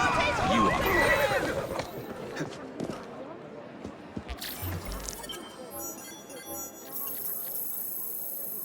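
A horse neighs and whinnies while being ridden in the video game Assassin's Creed Syndicate, a loud close call near the start with hoof clatter and game ambience after.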